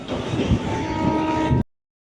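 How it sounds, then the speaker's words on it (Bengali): A train stands at Kolkata station, giving a steady, loud rumbling hum with platform bustle around it; the sound cuts off abruptly just before the end. "এই যে আমাদের ট্রেন কলকাতা স্টেশনে দাঁড়িয়ে রয়েছে"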